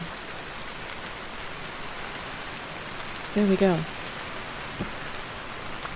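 Steady rain falling in the survival game Vintage Story, an even hiss through the whole stretch, with a short spoken remark partway through.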